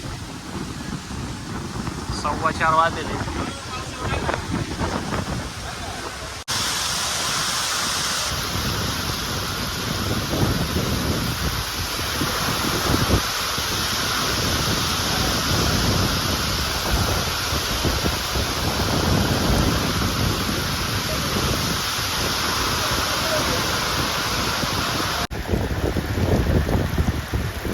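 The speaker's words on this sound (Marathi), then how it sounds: "पाऊस आलेलाच आहे तुफान वादळ आलेलं आहे" Heavy rain and gusting storm wind roar continuously at an onion auction market in Pimpalgaon, India, buffeting the microphone, while someone speaks briefly near the start.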